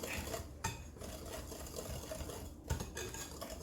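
Oreo cake batter is stirred in a bowl, a soft, steady scraping and swishing with a couple of clinks of the utensil against the side, quiet and close.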